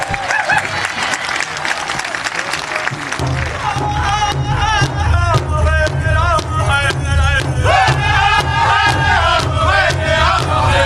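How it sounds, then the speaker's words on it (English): Audience applause and crowd noise fill an arena at a world championship hoop dance contest, loud and sustained throughout, with cheering over steady clapping and a low drum-like rumble joining in partway. "let's bring him out with a good round of applause"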